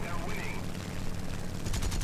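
Aircraft machine-gun fire in the War Thunder combat game, with an A6M3 fighter involved, comes as a rapid burst near the end over engine drone, fairly faint in the mix.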